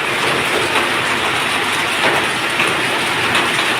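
A heavy downpour pours down in a constant loud rushing wash, close and even throughout with faint spattering texture and no talking.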